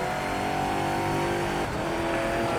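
A Saleen S7R race car in the Project Motor Racing game roars steadily at high revs, a loud continuous engine drone with a slight pitch shift as it holds speed, no voices present.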